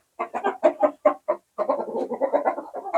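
Chickens in a simple backyard coop cluck in quick, close bursts: a choppy series of short clucks, a brief pause, then a denser run of continuous clucking.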